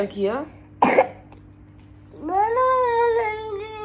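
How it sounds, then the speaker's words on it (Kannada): A single sharp cough from a child with a heavy, persistent cough bursts out close by, followed after a pause by a child's drawn-out whiny vocal sound. "ಕಂಟಿನ್ಯೂಸ್ ಕೆಮ್ತಾನೆ ಇದ್ದಾಳೆ"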